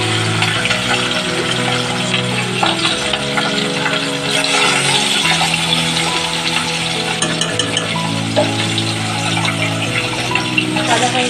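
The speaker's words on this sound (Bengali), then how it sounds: "মাছগুলো আমার ভাজাবো" Salted, turmeric-coated katla fish pieces fry in hot oil in a kadai, giving a loud, continuous crackling sizzle that lasts throughout, with background music underneath.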